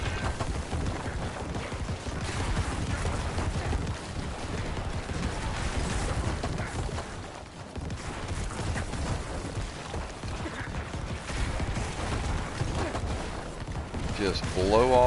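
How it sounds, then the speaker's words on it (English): Corpse explosion spell bursting repeatedly in Diablo 4 on PS4 with a Necromancer at a cursed shrine, a dense, continuous barrage of loud blasts and crackling impacts over roughly fifteen seconds, with game effects layered underneath. "Going to sit here and use corpse explosion."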